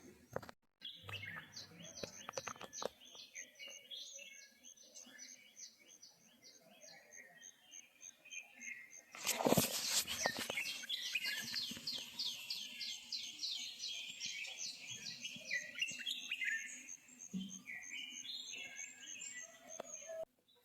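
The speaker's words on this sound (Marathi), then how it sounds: "आता ऐकवतो थोडाफार किलबिलाट पक्षी ओरडतात मागे तुम्हाला आवाज" Small birds chirp and tweet continuously in the background, a busy outdoor morning chorus in rural Konkan, with a brief loud rustle partway through.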